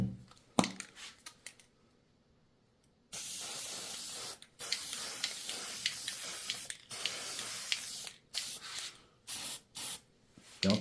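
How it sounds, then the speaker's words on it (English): Tamiya spray paint hissing onto a model commercial building in short bursts: a brief puff, a pause, then a long steady spray and several quick choppy blasts, close and loud. "We're going to paint the darker color first, just in case overspray travels up."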